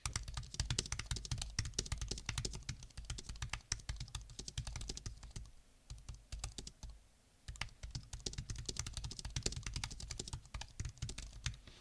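Rapid, steady typing on an Apple Magic Keyboard (2026), light, crisp keystrokes clicking close by, pausing briefly partway before resuming at the same quick pace.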